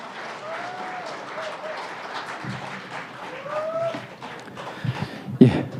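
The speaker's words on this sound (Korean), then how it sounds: "큰 박수로 환영해 주시기 바랍니다" A press-conference audience offers scattered welcoming applause for a lawyer, fairly light clapping with some murmuring voices and a louder knock near the end.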